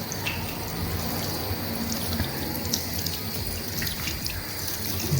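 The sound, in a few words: water running from an automatic hand wash tap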